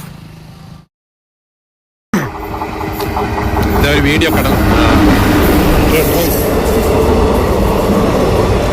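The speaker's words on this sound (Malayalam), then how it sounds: "ട്രെയിൻ കടന്നു വന്ന വീഡിയോ ആണ് നമ്മളെ കാണുന്നത്" After a brief gap of silence, a train rumbles past close by near Vellayani Studio Road and Chullamukku in Trivandrum, growing louder with rolling clatter and wheel noise; a voice speaks briefly at the start.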